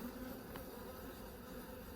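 Continuous low buzzing of many bees in a hive, steady and close, with no voices.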